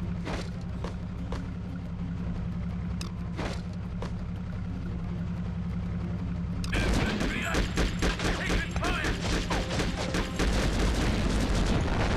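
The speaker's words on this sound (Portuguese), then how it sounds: "tiro que nem um louco" Gunfire in the Conflict: Desert Storm 2 video game, a low engine drone with scattered shots at first, then dense rapid bursts of automatic fire crackling loudly over one another.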